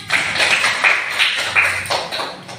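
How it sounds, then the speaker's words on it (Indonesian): Classroom applause for a student group, a burst of many hands clapping together in a sustained, uneven patter lasting a few seconds, fairly close and moderately loud, with no talking over it. "Kita kasih aplaus dulu untuk kelompok 1 nak."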